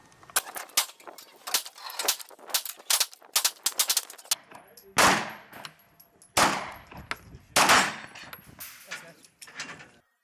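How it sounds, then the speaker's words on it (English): Shots from a 9mm pistol firing home-loaded rounds at a shooting range, a series of sharp loud cracks, some quick and some spaced with ringing decay, close by. "We're at the range, and it is time to try out these bullets."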